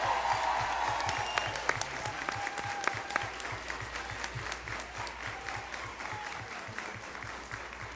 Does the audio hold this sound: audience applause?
yes